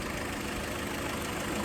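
A Chrysler PT Cruiser engine idles steadily after a throttle body gasket replacement, a continuous low rumble close by with no voices.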